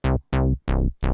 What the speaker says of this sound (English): that sound is kind of like an old school house bass